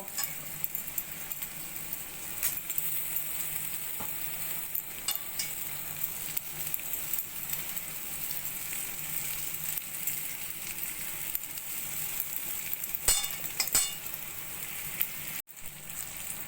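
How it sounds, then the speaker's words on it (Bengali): Jackfruit seeds rubbed against a kitchen grater while making a Bengali kathal dana bhorta, a steady close scraping hiss running throughout with faint brief clicks. "এবার আমি কাঁঠালের বীজগুলো এই গ্রেটারের সাহায্যে এইভাবে ঘষে ঘষে দিয়ে দেব"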